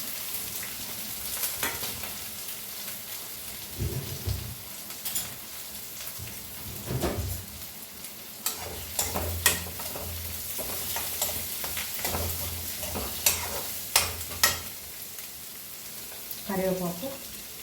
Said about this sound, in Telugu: ఆనియన్స్ పచ్చిమిర్చి ఆనియన్స్ వేసేస్తున్నాను